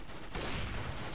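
Broadband rattle of sustained gunfire in Counter-Strike: Global Offensive, a dense unbroken burst that fills the whole short stretch at a fairly low, even level.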